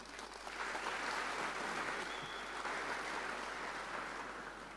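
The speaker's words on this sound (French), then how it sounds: "Nos applaudissements à vous-même, à nous tous qui y participons." Faint, steady applause from an audience at a construction and concrete trade expo, swelling slightly after the start and holding as a soft, continuous patter with no talk on top.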